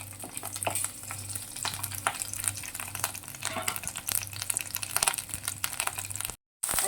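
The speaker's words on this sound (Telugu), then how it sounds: "ఆయిల్ వేడైంది, పచ్చిమిర్చి కూడా ఫ్రై అవుతున్నాయి." Green chilies sizzle and crackle in hot oil in a pan, a steady close frying hiss with scattered pops and stirring scrapes, running continuously before a brief dropout.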